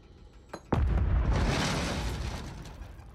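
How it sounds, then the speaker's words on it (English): A grenade explosion in Warzone 3 solos gameplay lands as a single heavy boom after a brief click, then a long rumbling roar that slowly fades over a few seconds. "People are throwing nades at the guy that's on top."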